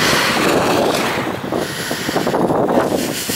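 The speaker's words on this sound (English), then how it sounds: "Yeah, it's a nice gentle breeze." Wind buffets the microphone while cycling along country bridle paths near Loxton, a loud, continuous rushing gust that swells and eases slightly, with no speech.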